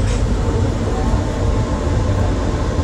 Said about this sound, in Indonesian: Lokomotif kita kali ini yang berdinas kereta api Argo Dwi Pangga adalah CC20677